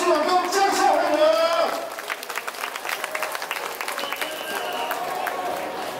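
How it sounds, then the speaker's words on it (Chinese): A crowd at a Dajia Mazu pilgrimage procession applauds to welcome the procession leader, with someone speaking over a loudspeaker at first, then rapid scattered clapping continuing steadily. "咱们一个掌声欢迎咱的头牛大伯徐永忠，掌声欢迎。"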